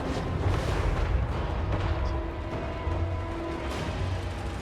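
Cannons fire in a Total War: Warhammer 3 multiplayer battle, heavy overlapping booms and rumbling blasts amid continuous battlefield din, loud and dense with no voices.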